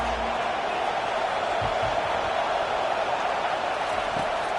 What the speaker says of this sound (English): listen to this crowd roar